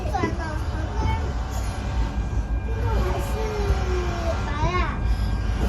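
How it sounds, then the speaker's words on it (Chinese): A small ride-on train at the Kyushu Railway Museum rumbles along steadily while children and adults chatter and call out close by throughout. "你开火车要认真开"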